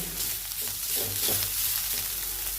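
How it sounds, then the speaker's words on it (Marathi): Bitter gourd roasting in an open pan, a steady broadband sizzle and crackle running continuously at moderate level with no voices. "ते कारली खूप छान भाजली जात आहेत"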